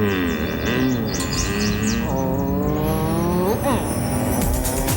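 Pontiac Sunfire GTO car with a 120-horsepower engine and rear spoiler driving past, engine note rising and falling in a loud, steady pass with tire squeal and effects-laden music layered throughout.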